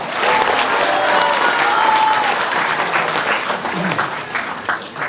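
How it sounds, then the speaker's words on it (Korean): Loud crowd applause at a New Year ceremony of a Korean political supporters' group, sustained clapping with some cheering voices, tapering slightly toward the end. "이게 박수입니다."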